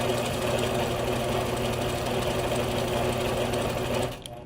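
Sewing machine stitching smoothly in manual mode with the stitch regulator switched off, a steady close mechanical whir with a fine rapid rhythm that runs evenly for about four seconds before stopping abruptly.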